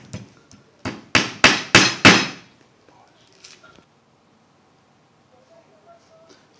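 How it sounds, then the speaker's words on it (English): Five sharp hammer blows drive a thumbtack into a picture frame in quick succession, each ringing briefly, followed by a few quiet taps and near silence. "Get the hammer."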